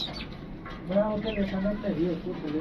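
Pigeons for sale in Lahore coo softly, low throaty calls repeating close by beneath someone talking.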